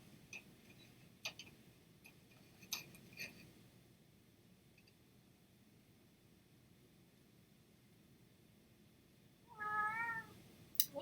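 A house cat lets out a single short meow near the end, close and clear, after a long quiet stretch with faint ticking and a few scattered clicks.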